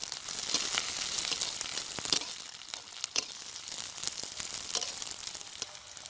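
Chopped onions, garlic, slit green chillies and panch phoron sizzle and crackle steadily in hot oil, with occasional stirring pops, cooked village style, no voices present.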